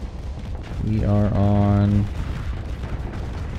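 Small arbalest cannons firing in the Starsector space combat game, a dense burst of booming shots lasting about a second over a low background hum, with someone talking briefly.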